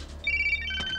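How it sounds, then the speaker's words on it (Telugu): A mobile phone ringtone sounds briefly, a bright electronic melodic tone stepping through a few notes, close and clear against a quiet room. "అరే రింగ్ అవుతుందిరా"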